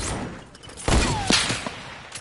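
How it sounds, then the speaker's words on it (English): Video game gunfire: a couple of sharp, loud shots in quick succession with a thumping impact, followed by fainter pops and background game noise. "Why did I just shoot that?"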